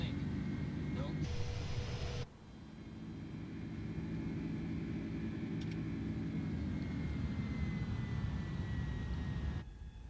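Simulated Airbus A310 airliner in flight in Microsoft Flight Simulator, a steady loud roar of jet engines and airflow that shifts in tone partway through, with a short tone and a voice near the start.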